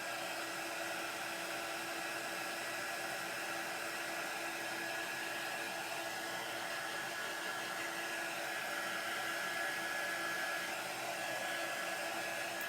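A hair dryer blows continuously to dry chalk on a craft project, a loud, steady, unbroken whoosh with a faint whine held evenly from start to finish.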